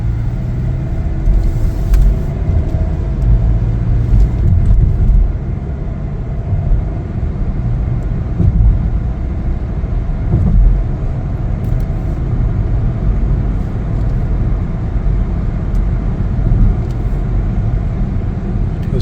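A 2024 Chevrolet Trax 2RS cruising on a test drive, with steady, smooth cabin road rumble and a low engine drone holding even throughout, no voices.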